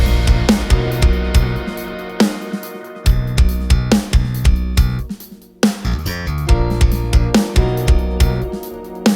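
A song verse played with the lead guitar muted, leaving drums, bass and layered backing instruments in a steady rhythmic groove with a short break midway, purely instrumental.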